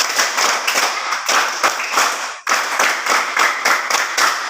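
Children in a classroom clapping hand-clapping game patterns in unison, loud rhythmic groups of claps with a short pause partway through and no voices.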